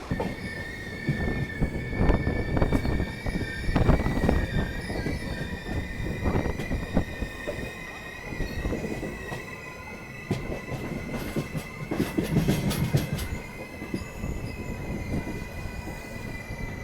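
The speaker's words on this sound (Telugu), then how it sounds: "మన ట్రైనే ఉంది ఇక్కడ బిట్రగుంట రైల్వే స్టేషన్లో." Narasapur–Tirupati express train 17428 at Bitragunta railway station, loud wheel squeal and metallic screeching over steady rolling rumble and clatter, continuous and close for the whole stretch.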